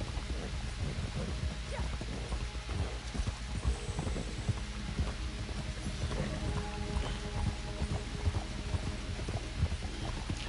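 Galloping horse hooves in the Western video game Red Dead Redemption on PlayStation 4, a steady rapid clip-clop rhythm running continuously under a low hum of game ambience, with no talking over it.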